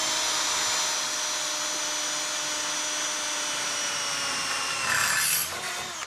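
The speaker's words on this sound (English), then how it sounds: "I can drill through all these holes and never have to worry about adding oil or the bit wearing out" A power drill fitted with quality bits bores holes through metal for a DIY plywood mover, giving a steady, close whine that runs throughout and rises briefly near the end.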